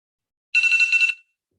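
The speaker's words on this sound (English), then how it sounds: "you'll see that my timer's going off" A timer alarm goes off during a drawing session, a single bright, buzzy electronic ringing burst of about half a second standing alone in quiet, close and fairly loud.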